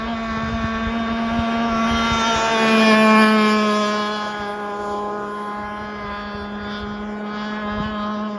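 A fiberglass R42 catamaran model boat from AC Model Boats runs on the water, its small motor giving a steady, loud high-pitched whine that swells and fades slightly as it passes nearby.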